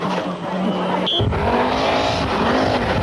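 Citroën Visa rally cars racing on a stage at the 1000 Lakes rally, a loud engine roar rising in pitch as a car passes close by, with a commentator talking over it.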